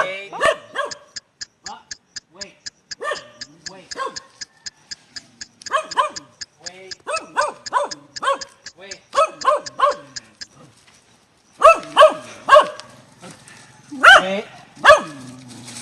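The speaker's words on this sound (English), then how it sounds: "There he goes, barking again." An Ilonggo dog barks in repeated bursts, sharp yips and barks in clusters with short pauses, close and loud, with a high whine between some barks.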